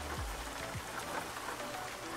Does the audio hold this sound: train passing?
no